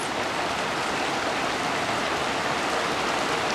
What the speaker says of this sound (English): And now it's raining even harder.